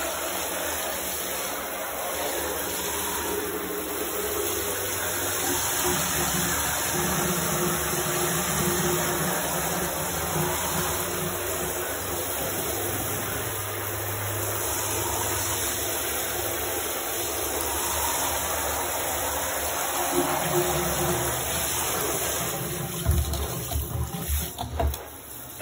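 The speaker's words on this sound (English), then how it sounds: "Water getting on the phone" Water sprays steadily while denim jeans are being washed, a continuous close hiss and splash with slight changes in pressure and some clattering near the end.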